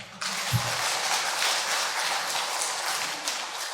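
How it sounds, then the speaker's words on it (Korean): A church congregation applauding during an early-morning special prayer service at Busan Seomun Church: dense, steady clapping that rises abruptly and holds evenly for over three seconds, filling the room at moderate loudness with no voices over it. "멋진 하나님께 박수를 올려드린 겁니다"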